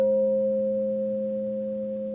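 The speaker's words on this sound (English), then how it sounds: "The vibrations through the tone of the crystal bowl help you to calm down." A crystal singing bowl rings with a steady, pure sustained tone and faint overtones, holding evenly and fading only slightly, alone without any voices.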